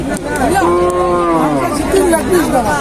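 A decorated cow at a rural cattle market lets out a long, loud, wavering moo close by, with a second call following over a steady background of crowd chatter.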